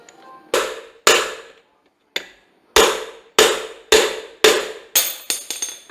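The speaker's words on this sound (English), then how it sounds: "I'm going to put this nut back on, and we're going to peck on it so we don't mess them threads up" Metal hammer blows peck on a nut threaded onto a rusted engine piston rod, driving the stuck piston out of a Ford Fairmont engine block; about nine sharp, ringing strikes, spaced unevenly then quickening at the end, loud and close with no talk.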